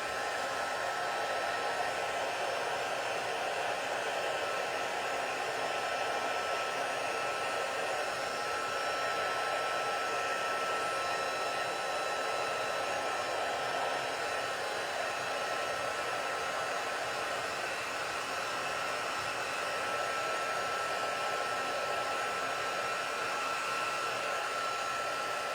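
A heat tool blows steadily and loudly over freshly stamped watercolor ink, a continuous even whoosh with no breaks across the whole stretch.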